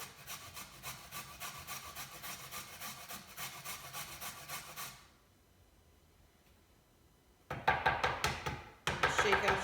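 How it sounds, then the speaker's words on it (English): Vegetables are grated finely on a hand grater for a Bolognese sauce, rhythmic rasping strokes that pause into near silence before a few louder, harsher grates resume. "So just a few more grates here."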